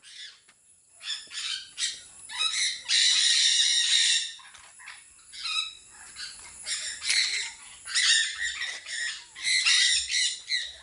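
Several birds calling in loud, harsh squawking bursts that come and go, with short quieter gaps between.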